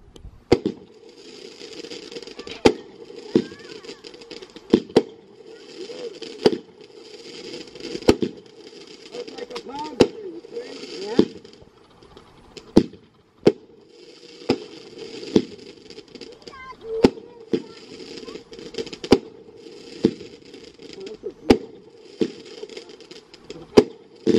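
A Crackling Color Palm 16-shot fireworks cake going off, sharp launch thumps followed by bursts of dense crackle repeating in a steady volley, loud and outdoors, with no talking over it.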